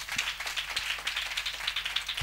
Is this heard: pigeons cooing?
no